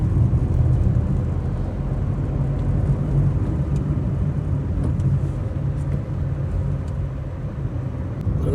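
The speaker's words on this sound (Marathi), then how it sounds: "खतरनाक घाटामध्ये आता आपली गाडी चालते" A car climbs a steep, winding mountain ghat road near Satara, its engine and road rumble droning steadily and loud from start to finish.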